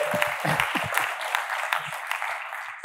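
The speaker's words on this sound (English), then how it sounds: "A round of applause if he's watching at home" A small group claps for a few seconds, the applause loud at first and then thinning to scattered claps.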